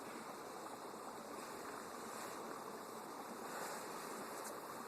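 Wind blowing outdoors at a fire-starting spot, a steady broadband rushing that stays constant throughout with no talk.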